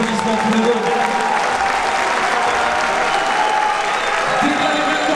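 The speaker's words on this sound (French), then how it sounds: "Ils méritent des applaudissements tous les deux." An audience at a combat-sports event applauds both fighters after the evening's opening bout, a steady, dense wash of clapping and crowd noise holding for several seconds with voices mixed in underneath.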